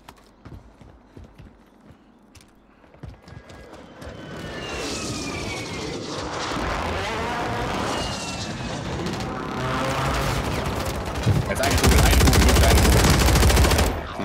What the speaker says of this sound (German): Den wird noch von woanders geschossen